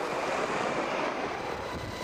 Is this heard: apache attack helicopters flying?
yes